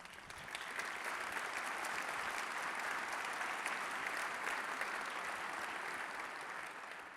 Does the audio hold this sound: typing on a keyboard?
no